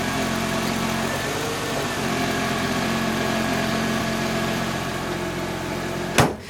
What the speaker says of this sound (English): We have the fan running without hitting the shroud